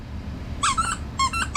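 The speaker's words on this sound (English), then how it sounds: "It's like a plush doll, but it's like a squeak toy as well." A large Lamb Chop plush squeak toy is squeezed twice, giving two sharp, high squeaky bursts close by over a low background hum, with no talking.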